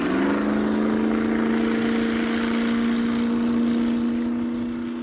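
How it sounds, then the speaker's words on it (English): A classic motorboat engine on a lake drones steadily with a strong humming tone, close and loud, slowly fading slightly toward the end over a wash of water noise. "Now we're ready for a boat ride."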